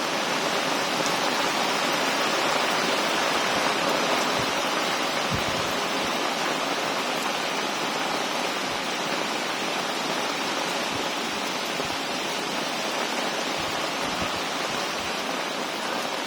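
Heavy rain pours down during a storm with strong wind around a hut, a dense, even roar of water that never lets up, loud and close, with a few soft knocks underneath.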